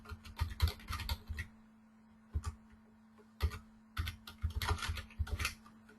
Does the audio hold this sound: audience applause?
no